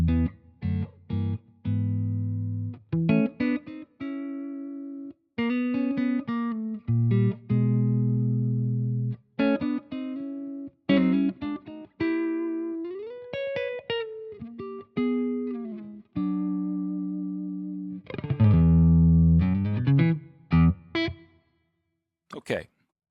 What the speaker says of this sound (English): here's the clean tone on my hot rodded Telly